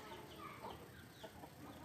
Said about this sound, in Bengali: এই যে গ্রাম অঞ্চলের হাঁস মুরগি দেখেন